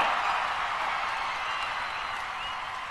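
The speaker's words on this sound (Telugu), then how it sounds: "మా మల్లికార్జునరావు గారు లేచి చప్పట్లు బాగానే కొట్టాడు" Applause from an audience at a university centenary celebration, a dense, steady wash of clapping that fades slightly toward the end.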